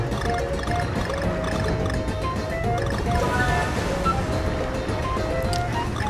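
Ocean waves wash in Donkey Kong Country Tropical Freeze, a steady, dense surf roar with no breaks, loud and constant throughout.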